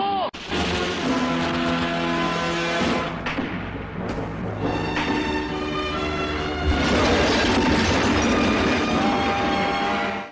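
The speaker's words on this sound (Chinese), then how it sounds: "这时附近的铁路上一辆火车经过" A train passes on a railway in a 1980s North Korean spy action film: a loud, continuous rumbling roar that swells toward the end, layered with dense film soundtrack tones throughout.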